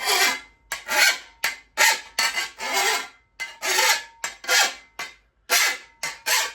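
A hand file rasps along the dull edge of a shovel in about a dozen uniform strokes, each a loud, close scraping burst separated by short pauses.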